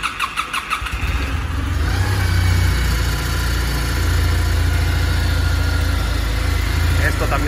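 A Kawasaki W800 motorcycle with no choke lever is started: a brief cranking stutter, then the engine catches and settles into a loud, steady close-up idle that runs to the end.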